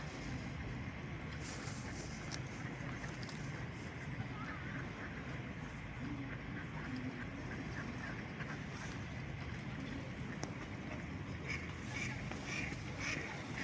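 Faint duck quacks come through a steady outdoor wash of water and wind near an old oak, with people talking softly in the distance.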